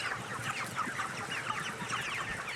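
Chickens at a crowded chicken farm in Anseong, Gyeonggi Province, cluck and chatter continuously, many birds overlapping in a dense, busy flock noise at moderate distance, with no talking.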